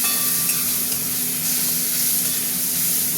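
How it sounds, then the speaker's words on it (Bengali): Spices with turmeric and salt stir-fried in oil in a kadai for a potato and pointed gourd curry, giving a steady, close, continuous sizzle and hiss with no voices. "মশলাটা এবার আমি কষবো"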